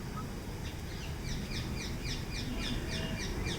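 Birds calling in a misty garden in Jodhpur, a series of repeated sharp chirping calls at a moderate distance over a constant low hiss of background noise.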